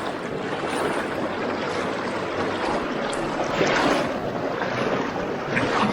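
An electric hydrofoil board cruising on water, ridden lying down at low speed: constant loud rushing of water and wind, with no talk.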